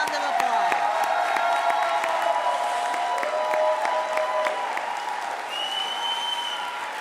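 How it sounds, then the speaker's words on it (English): Sustained applause with scattered cheers and whoops fills a hall as July 2022 nursing graduates of the Beck School of Practical Nursing are presented, steady and loud throughout with a voice briefly heard over the clapping. "A round of applause."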